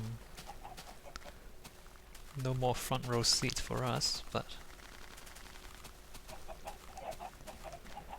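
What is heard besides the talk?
Minecraft chickens clucking while being cooked, from a video game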